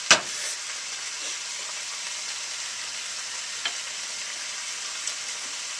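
Chinese cabbage stems seasoned with salt fry in a pan for a Tibetan meat-and-cabbage dish, giving a steady close hiss of sizzling with a sharp stirring clatter at the start and a few faint scrapes later.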